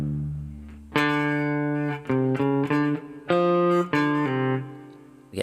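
A guitar plays a slow melody of separate plucked notes, some ringing briefly and linked by quick pull-offs, clear and close, with short pauses.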